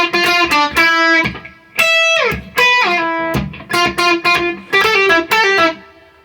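Electric guitar plays the outro riff of a song: bright, plucked notes in short repeated phrases with slides down the neck, close and loud with no talking.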